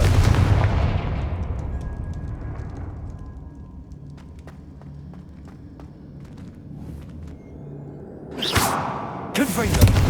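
A Confringo fire spell in Hogwarts Legacy lands as a loud booming blast that slowly decays into rumble and crackle, followed by sharp whooshing impacts near the end.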